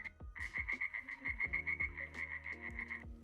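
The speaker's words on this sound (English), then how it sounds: "Sounds like a frog." AI-generated frog sounds: a dense chorus of frogs croaks continuously, rhythmic pulsing trills layered with deeper, repeated croaks nearby.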